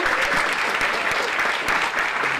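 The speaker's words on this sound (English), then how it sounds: "Round of applause for our amazing executive director, Alyssa." Sustained applause from an audience at an awards event honoring an executive director, a steady dense patter of many hands clapping throughout without pause.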